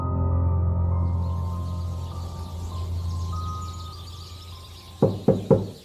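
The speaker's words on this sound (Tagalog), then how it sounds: "marinig ko ang 3 sunod-sunod na katok" Three sharp knocks rap on a house door in quick succession, following a long stretch of low droning hum with faint bird chirps in the background.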